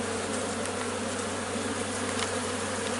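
A dense, loud, continuous buzz of many bees close by, steady throughout with no talking.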